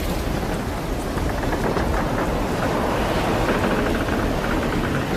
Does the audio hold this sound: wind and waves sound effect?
yes